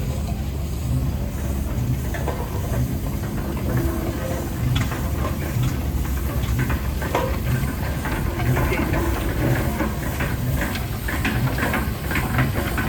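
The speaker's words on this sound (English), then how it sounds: "so we would ask for the steam traction engine" A steady, loud hiss of escaping steam from an antique steam traction engine in a parade, continuous, with a low engine rumble and faint rhythmic chuffing underneath.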